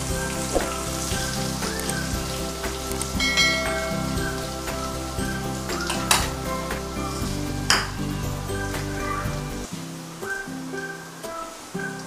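Garlic, asafoetida and whole spices frying in hot oil for a brinjal and potato curry, a steady close crackling sizzle with scattered pops and clinks that drops away near the end.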